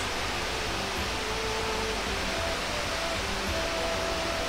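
An empty Chinese wok heats over a gas burner with a steady, loud, even roar that holds unbroken throughout, with no voices.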